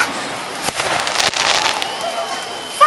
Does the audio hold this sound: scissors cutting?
no